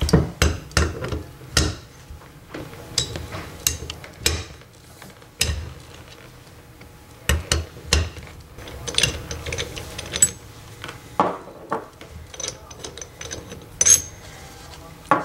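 A breakover wrench works the bolts on a cyclonic choke valve, giving a series of sharp metallic clicks and ratcheting knocks, irregular and close, with short pauses between bursts.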